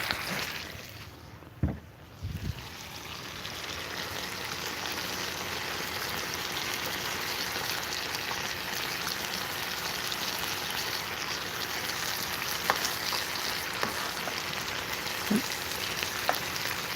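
Burgers fry on a biogas burner fed from a floating IBC gas holder, giving a steady, moderately loud sizzle throughout, with a couple of brief knocks near the start and no talking.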